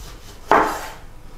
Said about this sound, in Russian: Режем салат.